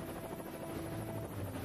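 Marine One, the presidential helicopter flown by HMX-1, gives a steady, dense rotor and engine drone that holds at an even level throughout, with no voices over it.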